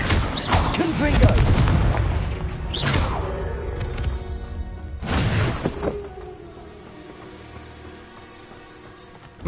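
In the video game Hogwarts Legacy, a Confringo fire spell goes off in heavy booming blasts, one big explosion followed by further crashing bursts and a ringing, rumbling decay as things settle.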